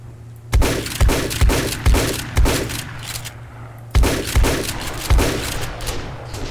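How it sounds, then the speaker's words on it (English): Gunfire in the zombie survival game Zukey Land 3: a volley of sharp, loud shots in an irregular burst, roughly seven or eight cracks with short gaps, each carrying a crashing, glassy tail over a steady low hum. "Somebody's shooting."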